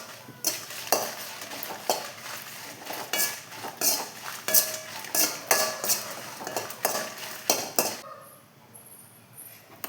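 Dried red chillies dry-roasting in a pan, a utensil scraping and clinking against the metal in quick repeated strokes with a faint sizzle beneath, close and fairly loud, easing into quieter hiss near the end.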